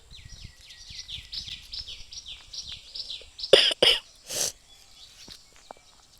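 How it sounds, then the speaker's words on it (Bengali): A person coughs in three or four harsh bursts close up while outdoors hanging laundry in the sun. Steady chirping birds fill the background throughout. "অনেকটা কাশি হয়ে গেছে আমার"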